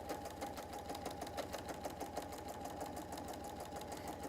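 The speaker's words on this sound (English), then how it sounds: "And down we go." Sewing machine running steadily as it stitches binding onto a fabric tablet cover with light thread, a continuous rapid whirring hum with a fast needle rhythm throughout, close and moderately loud.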